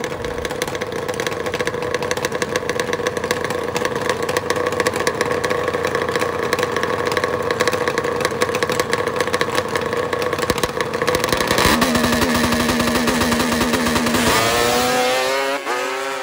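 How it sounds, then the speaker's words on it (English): Two Kawasaki H2 750 two-stroke motorcycles idle at a drag strip start line, a loud, steady, buzzing drone with a sharper revving pitch change near the end. "Two Kawasaki H2 750s"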